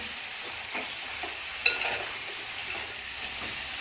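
Black-eyed pea curry with drumsticks and brinjal is stirred in a pan, a soft steady sizzle with faint scraping strokes and one sharper clink of a spoon against the pan midway, no talking.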